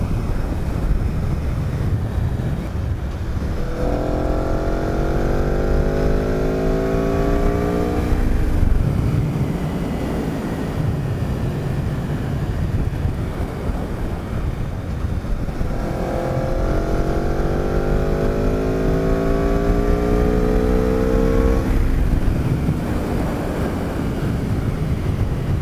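A 2018 Aprilia RSV4RR accelerates hard twice, each time its engine note climbing rapidly through rising revs over heavy wind rush before falling away, with no speech.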